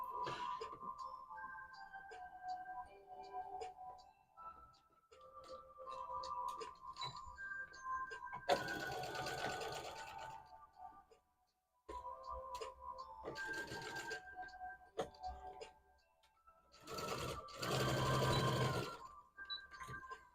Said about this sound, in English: now I'm gonna sew this leaf